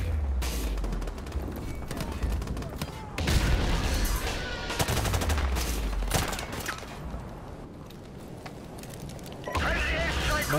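Booming airstrike explosions and heavy gunfire in a military shooter video game, with loud bursts repeating through the stretch amid dense battle noise and voice chatter.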